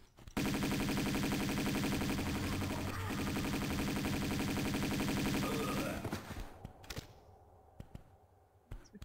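Lara's Uzis or pistols firing in Tomb Raider 2 Remastered: a long, dense stream of rapid shots lasting several seconds, loud and steady, then a few scattered final shots.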